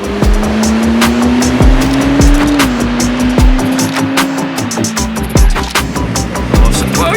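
A sports car speeds along with a loud, steady engine roar that rises and falls as the driver shifts gears, heard close and continuous with no talking.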